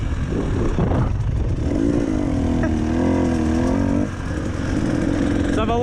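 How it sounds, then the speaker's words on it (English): Dirt bike engine droning steadily as it laps a dry, hard-baked motocross track with tabletop jumps, the motor's pitch rising and falling with throttle changes throughout, loud and close. "so I'll take you around the motocross track for a lap."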